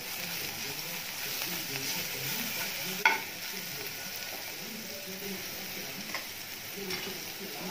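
Garlic paste and crushed black pepper sizzle steadily in a hot pan close by, with stirring throughout and a sharp utensil clack partway through.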